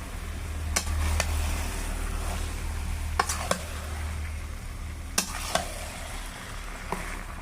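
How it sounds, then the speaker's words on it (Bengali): Meat frying and being stirred in hot spiced oil while the masala is cooked down, with a steady sizzle underneath and a few sharp clinks of a utensil against the pan. "এবার মাংসটা দিয়ে দেবো। ভালো করে কষাবো মাংসটা।"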